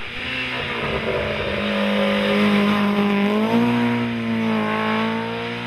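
A BMW M3 E30 race car climbs a hill-climb course at Sant Mateu de Bages, its engine loud and steady with a sustained rising then falling note through gear changes, close by and continuous.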